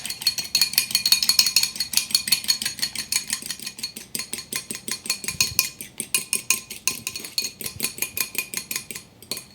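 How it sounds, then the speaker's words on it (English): A fork beats egg yolk in a bowl for a gluten-free wedding cake, making a fast, steady run of bright metallic clinks against the dish, close and continuous with no talk. "I'm gonna grab a fork, and I'm just gonna whisk it up"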